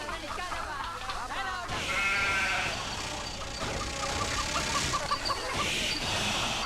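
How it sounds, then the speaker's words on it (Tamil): Goat bleating in a rural setting, several wavering cries in the latter part of the clip over a noisy background, preceded by a brief stretch of other sound. "இந்த ஆடு ஏன் தான் இவ்வளவு அநியாயம் பண்ணுதோ?"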